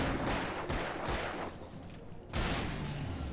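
Gunfire in the Alan Wake video game, with several loud bursts of shots in quick succession, followed by a short lull and then another loud blast.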